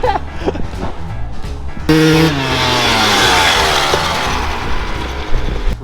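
An old Chevy truck engine starts up and runs, a loud close rumble with a sudden onset and a droning, slightly varying idle, after some brief clattering and mechanical noises.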